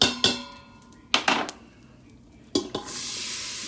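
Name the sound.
vegetables added to a pot with sausage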